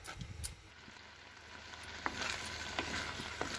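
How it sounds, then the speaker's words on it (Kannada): Tomato chutney simmers in a pan, soft bubbling and a faint sizzle building gradually, with a few sharp pops and light stirring knocks, quiet and close with no speech. "ಹಾಗೆ ಚೆನ್ನಾಗಿ ಕುದಿಸ್ಕೋಬೇಕು ಇದನ್ನು"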